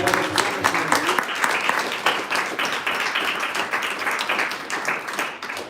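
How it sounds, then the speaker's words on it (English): An audience applauds after a theremin and piano concert, a full, close wash of many hands clapping that continues steadily, with a brief tonal trace at the start. "can we have one more round of applause for Perla Palomo?"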